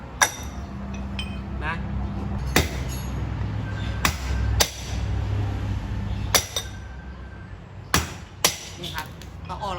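Sharp metallic hammer strikes ring out one or two at a time at uneven intervals, loud and close, over a low background hum, as rivets are knocked out of a Honda Wave motorcycle clutch.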